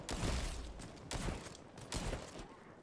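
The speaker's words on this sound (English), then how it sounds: "Damn shotguns." Shotgun blasts in the video game Hawked, three broad booming shots spaced roughly a second apart, each with a long rumbling tail, loud and close.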